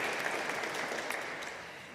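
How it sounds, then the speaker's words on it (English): Audience applause at a social justice advocacy event, a steady wash of clapping from a crowd that fades slightly toward the end with no talking over it. "I think that deserves a big clap"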